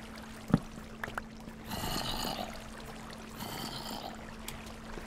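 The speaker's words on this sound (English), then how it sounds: "Now we're back to having our waterfall down here that I got rid of before." A Minecraft waterfall pours down in a dark cave area, a rushing wash of water swelling in two bursts over a quieter ambient bed, with a few faint clicks scattered around it.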